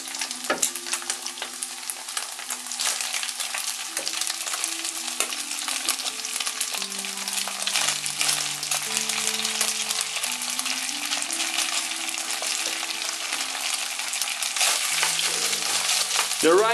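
Rice stir-fried with eggs in a Chinese wok over high heat, a loud continuous sizzle with constant scraping and tossing throughout, soft music playing beneath.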